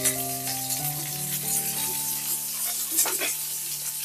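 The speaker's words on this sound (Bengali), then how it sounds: "এই তেলের মধ্যে আমি দিয়ে দেব পেঁয়াজ" Onions hit a little oil in a wok for reshmi chicken, a soft frying hiss with a brief sizzle burst, while sustained background music tones run underneath.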